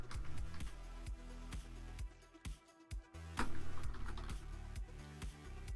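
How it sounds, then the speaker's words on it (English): Rapid, uneven keystrokes on a computer keyboard, close and clear, with brief pauses between bursts and no talking. "Why am I typing there?"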